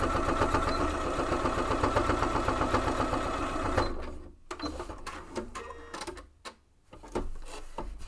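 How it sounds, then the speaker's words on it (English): Sewing machine stitching through several layers of a backpack tab, a fast steady mechanical chatter for about four seconds, then stopping into quieter handling clicks and shuffles. "Then I'm going to fit that up on the machine and stitch through all those layers to tack that tab down."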